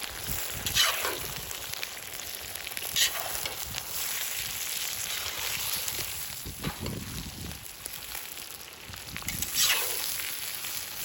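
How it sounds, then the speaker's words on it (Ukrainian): Carrots sizzle and crackle steadily in a hot kazan over an open fire, a broad hiss with occasional louder bursts as they are stirred. "Декілька хвилин смажимо моркву"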